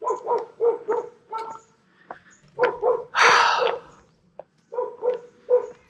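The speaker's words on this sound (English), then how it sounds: "my dog goes hyper when he sees somebody." An excited dog barks in quick clusters of sharp, loud barks, with a rougher snorting burst in the middle and short pauses between the groups.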